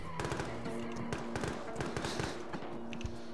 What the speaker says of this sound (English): We got friendly fire mission inbound, so just see where it lands.